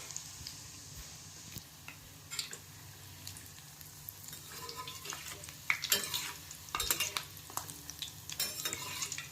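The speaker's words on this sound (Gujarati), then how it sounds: "ગેસની ફ્લેમ ધીમી રાખેલી છે મેં. આવી રીતે ધીમે ધીમે એને તળતી જવું." Pieces of dhokdi fry gently in oil over a low gas flame, giving a soft steady sizzle with occasional stirring scrapes and utensil clinks near the end; no one speaks.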